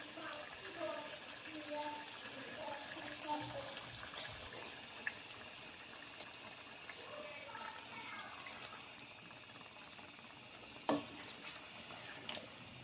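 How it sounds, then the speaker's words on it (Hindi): Water poured into a pan of chicken handi cooking on the stove, a soft continuous sizzle and liquid hiss with faint stirring clinks, fairly quiet throughout with a sharper knock near the end. "इसमें थोड़ा सा अब हम इसमें पानी ऐड करते हैं।"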